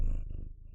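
Pet cat purring close to the microphone, a steady low rumbling purr with rhythmic pulsing that fills the short moment on its own.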